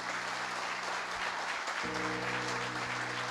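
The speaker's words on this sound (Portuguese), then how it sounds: "Aplauda bem forte o Senhor." A church congregation applauds strongly, a steady dense wash of clapping filling the space, with a low sustained organ-like hum entering partway through.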